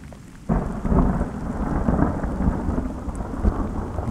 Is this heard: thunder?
yes